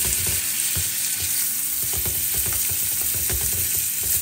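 Whole unpeeled shrimp frying in a pan: a steady, close hiss and sizzle with rapid crackling pops and occasional scraping stirs, no voices.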